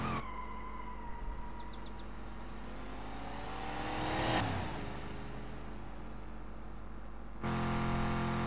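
A blue Jeep in a video game of cars crossing an obstacle course on incomplete roads, its engine droning steadily and rising into a swelling rev midway before a loud surge near the end.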